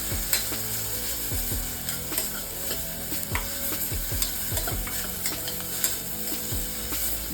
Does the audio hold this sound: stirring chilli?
yes